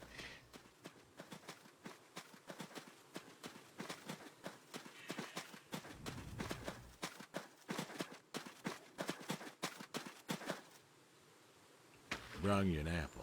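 Horse hooves clop in a video game, a brisk run of sharp, evenly spaced footfalls that pause midway and resume before stopping near the end, fairly close and clear.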